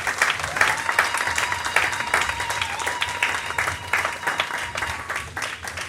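A church congregation at a wedding applauds in a dense, sustained round of clapping from many hands, steady and fairly close, with faint voices mixed in.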